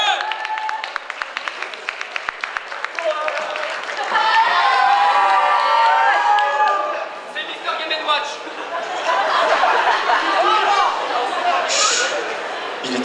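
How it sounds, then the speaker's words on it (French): Audience at a Manga Days 2007 cosplay show applauds and cheers a Nintendo cosplay group, steady crowd clapping and calls swelling loudly in a hall, with an announcer talking over the start. "Les voilà. Applaudissez-les."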